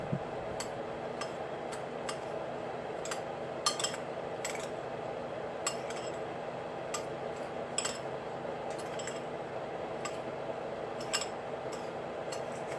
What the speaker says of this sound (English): let's take a little spoon and stir our sugar and crumbs together